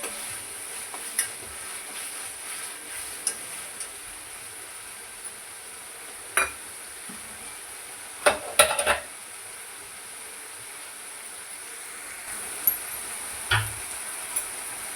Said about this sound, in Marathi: हलवून घेऊया चांगलं मस्त ग्रीन पेस्ट कांद्यामध्ये